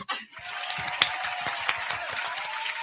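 A small group of women in a podcast studio clapping hands, a continuous close patter of claps with a few sharper louder ones, fairly quiet overall.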